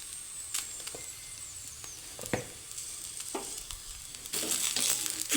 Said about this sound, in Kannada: ಆ ರೀತಿ ಇದನ್ನು ಎಣ್ಣೆಲೇ ಫ್ರೈ ಮಾಡ್ಕೋಬೇಕು